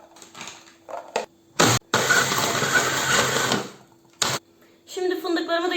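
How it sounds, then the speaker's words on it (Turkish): A blender whirs in a loud, gritty burst for a couple of seconds, grinding biscuits and hazelnuts toward a flour-like texture, with brief clicks and talk around it. "Un kıvamına gelene kadar blenderımdan geçeceğim."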